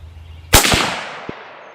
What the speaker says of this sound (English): let's shoot this third one